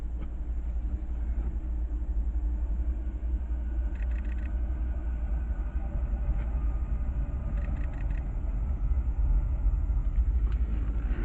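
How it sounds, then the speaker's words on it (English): CSX eastbound double-stack freight train passing through East Brookfield, Massachusetts, on the Berkshire Subdivision, a steady heavy low rumble with faint metallic squeals and clicks throughout. "second eastbound stack train coming through East Brookfield"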